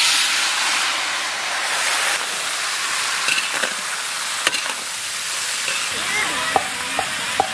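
Tomatoes fry in a pan with mustard seeds, dry red chilli and bay leaf, giving a steady loud sizzle and hiss with a few small pops and spoon clinks near the end.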